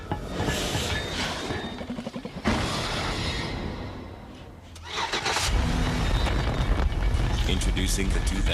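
A 2006 Chevy Impala with a small-block V8 cranks and fires up, then its engine rumbles and revs at close range. Bursts of sound effects play beneath a male announcer's voice.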